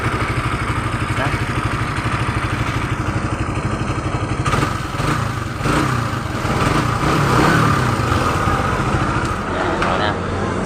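A Suzuki Rider 150 fi motorcycle, recently repaired after a check-engine fault, idles with a steady low putter that roughens midway as if briefly blipped, while someone talks close by throughout.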